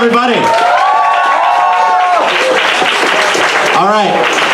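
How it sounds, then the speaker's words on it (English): Audience applause and cheering for a performer at a comedy show at the Canterbury House, a dense wash of clapping under loud voices, with calls and whoops rising near the start and end. "Give another round of applause for Zeal, everybody."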